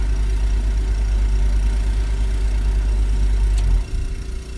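Engine of a 1998 Honda Civic EK idling loudly with a deep steady rumble after a push-button start, then briefly dropping and roughening near the end.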